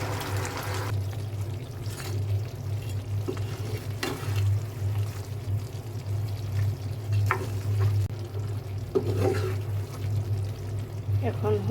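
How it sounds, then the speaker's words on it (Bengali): Chicken wing pieces dropped into a hot pan of soy sauce mixture for homemade hot wings, with steady loud sizzling, some stirring and pouring sounds, and someone talking over it. "এখন হচ্ছে চিকেনগুলো দিয়ে দিব।"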